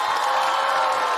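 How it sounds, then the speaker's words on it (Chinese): A studio audience at a Chinese stand-up comedy competition applauds and cheers a performer, a dense, steady wash of clapping heard loud and close throughout with no voices over it. "我们掌声再给妮达"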